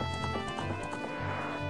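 A mare's hooves clip-clop at a steady trotting rhythm in The Legend of Zelda: Ocarina of Time, quiet and even beneath sustained game music tones.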